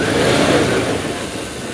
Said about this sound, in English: There's its idle.